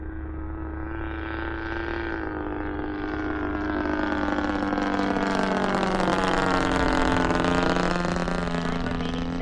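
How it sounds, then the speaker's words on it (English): Electric motor of a Legend Hobby 81-inch Super Chipmunk RC airplane in flight, a continuous whining drone with rising and falling pitch that grows slightly louder as the plane passes. "Powerful motor."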